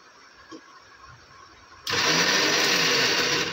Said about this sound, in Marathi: अरे मिक्सर आहे तो